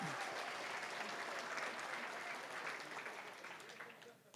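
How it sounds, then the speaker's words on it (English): An audience at an AmeriCorps anniversary celebration and opening ceremony breaks into applause, a steady, fairly distant patter of many hands that fades gradually near the end, with faint speech mixed underneath. "Y'all can clap for that"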